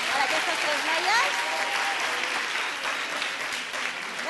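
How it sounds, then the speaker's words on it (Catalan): Audience applause for a three-girl school team at a spelling contest, steady clapping from a crowd with a voice speaking over it. "També fort aplaudiment per aquestes tres noies."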